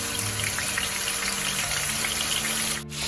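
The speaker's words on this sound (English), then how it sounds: "I'm going to fry the chicken in almost full flame, high flame." Steady, continuous sizzling of chicken shallow frying in hot oil on a high flame, loud and close, with a brief dip near the end.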